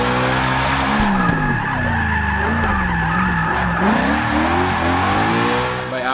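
Supercharged Ford Mustang GT350R drifting in Forza 6 on a racing circuit, loud continuous engine drone with rising and falling revs and sustained tire skid squeal throughout, no talk.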